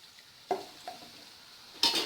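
Boondi batter frying in hot oil for a spicy South Indian mixture makes a steady, soft sizzling hiss, broken by a few brief louder bursts and clinks, the last one near the end.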